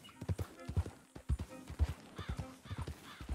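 Horse hooves clip-clop in Red Dead Redemption 2 on PS4, a close, irregular stream of muffled thuds with a soft whinny-like tone in places.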